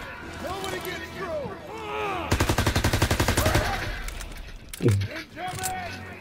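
Rapid automatic gunfire bursts in the World War II shooter Call of Duty WW2 during the D-Day campaign mission, a loud rattling volley in the middle, with shouted voices before and after.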